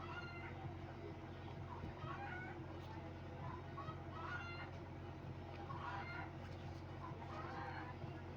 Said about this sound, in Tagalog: Nagputput-putak ng manok ni Titing Aida Ambot.